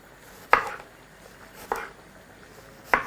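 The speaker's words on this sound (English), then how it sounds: "we're going to proceed to first slice that very thinly." A kitchen knife slices an apple thinly on a cutting board, three separate crisp cuts spaced about a second apart, close and clear with quiet room tone between them.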